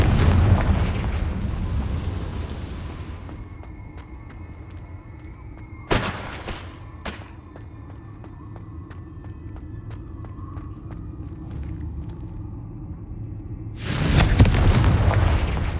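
Confringo blasting spells explode in Hogwarts Legacy with a heavy rumbling boom at the start, a sharp blast in the middle and another loud, deep explosion near the end, with quieter game ambience between.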